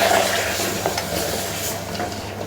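Mutton with ginger-garlic paste and small shallots sautés in a pan, giving a steady dense sizzle with faint stirring movements and no talking.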